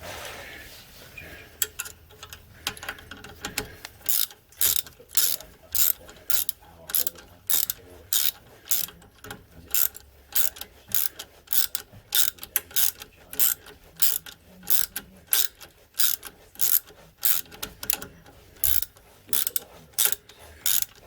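A hand ratchet tightens long bolts on the rear axle of a Suzuki Jimny Gen 4 during a lift kit fitment, giving rapid bursts of close, crisp clicking strokes in a steady repeating rhythm that continues for a long stretch.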